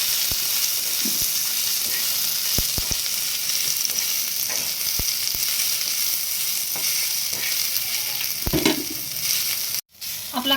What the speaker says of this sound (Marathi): आपण त्याच्यावर थोडंसं तेल टाकू म्हणजे कांदा लवकर भाजला जाईल